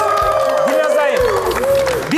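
Studio audience applause on a Kyrgyz matchmaking TV show, a steady wash of clapping and cheering that fills the whole moment while a host's voice carries over it with musical tones.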